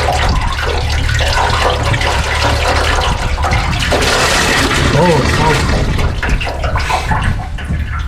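A strong, steady gush of water flows through a flushed coolant hose on a 1999 BMW 328i E46, loud and continuous with a brief exclamation over it.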